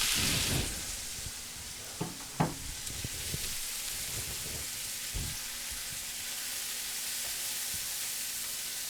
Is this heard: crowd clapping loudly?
no